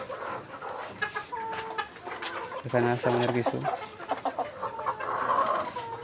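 Desi hens and roosters on a Bangladeshi poultry farm cluck and call repeatedly, with a burst of loud crowing-like calls in the middle, while someone talks over the birds.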